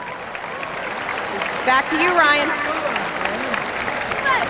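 Applause from a crowd at the 2006 OVAC All-Star football game, a steady wash of clapping and crowd noise running under a voice throughout.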